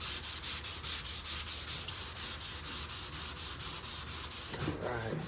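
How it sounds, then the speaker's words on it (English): Evercoat 4:1 polyester primer is block sanded by hand in steady back-and-forth strokes, a loud, close, even rasping rhythm of about four strokes per second, ending with a brief clatter. "Now see, I actually sand up pretty quick."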